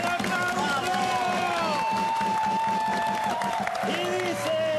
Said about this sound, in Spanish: ¡Vamos, el aplauso!